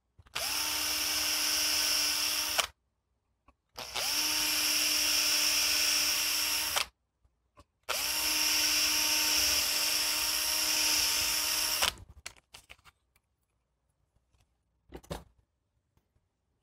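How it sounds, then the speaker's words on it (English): A drill on its low setting spins to twist wire clamped on a 2x4 workbench, running in three steady whirring bursts of about three to four seconds each, close and loud, followed by a few faint clicks and handling noises. "take your screw gun or your drill, whatever has an adjustable chuck on it, and set it on the low setting"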